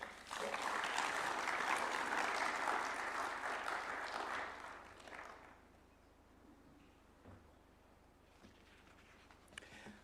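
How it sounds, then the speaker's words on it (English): A hall audience applauds after a speech at a United Nations event, a loud, dense wash of clapping that swells for about five seconds, then fades to quiet room tone with a few scattered claps. "Another round of applause for Zainab."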